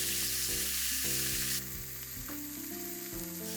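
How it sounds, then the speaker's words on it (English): Miso pork sizzles steadily in a pan over low heat, a constant close frying hiss under a layer of sustained background music tones. "I grill it over low heat."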